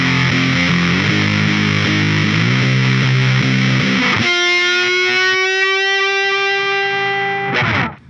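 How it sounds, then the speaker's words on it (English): Distorted electric guitar riff, chugging palm-muted chords giving way to a long sustained note with a slow upward string bend that rings out before a final strum, loud and alone. "he just throws in that slow bend, and he found a way to add it to riffs to make it part of a riff"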